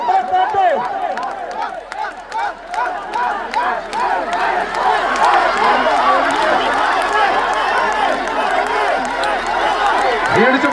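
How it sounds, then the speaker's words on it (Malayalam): A large crowd at a local football match in Wayanad, cheering, shouting and clapping together in a loud, continuous roar that swells and holds steady, with voices and whistles mixed through it. "കൈയടിച്ച് നല്ലൊരു കൈയടി"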